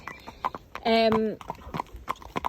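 A horse's hooves clip-clop at a steady walk while out hacking, mid-distance and fairly quiet, with a person talking over them and a brief tonal electronic ring cutting in partway through.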